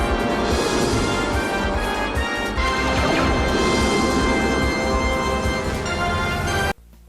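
Dramatic orchestral music from a Doctor Who factory scene, resembling the Who Wants to Be a Millionaire theme: a dense, loud, sustained swell that cuts off abruptly near the end.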